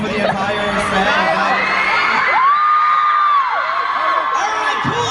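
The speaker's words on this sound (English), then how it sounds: "You guys had them scream for the entire set" A large VidCon crowd of fans screams and cheers continuously at a stage show, with high, piercing shrieks and whoops rising and falling throughout.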